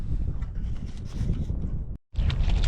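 Strong night wind gusts at a stormy fishing spot where burbot are sought, buffeting loudly and roughly with low rumbling, briefly cutting out near the end before surging back.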